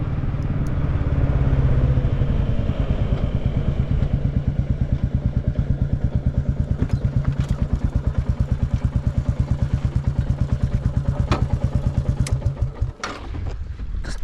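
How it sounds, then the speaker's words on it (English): A Royal Enfield Classic 350 motorcycle idles close by with a steady, thumping single-cylinder beat that holds for about thirteen seconds before cutting out abruptly when the engine is switched off. "Turn my engine off so I don't confuse any cars coming."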